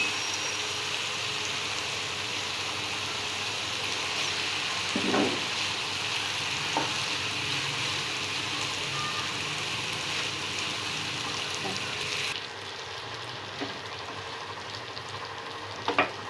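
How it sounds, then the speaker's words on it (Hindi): Boiled spaghetti is tossed and stirred into chicken chow mein in a hot pan, a steady close sizzle and frying hiss with a few soft scrapes, no talking. "ये देखिए अच्छी तरह हमने मिक्स कर ली स्पैगेटीज इसके अंदर"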